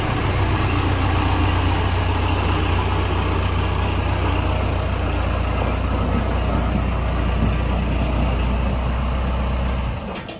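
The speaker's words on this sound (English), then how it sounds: "it's got a really nasty exhaust leak, so it sounds terrible" A Dodge Charger engine idles with a bad exhaust leak, giving a loud, steady, rough rumble close by that holds for about ten seconds and then cuts off abruptly at the end, with no talk.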